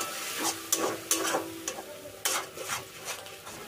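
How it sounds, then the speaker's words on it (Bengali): Tomato paste being stirred into a frying pan for potato curry, close sizzling with several sharp scraping and clacking strokes of the spoon at an uneven pace. "এখন টমেটোটা একটু মিশিয়ে নেব।"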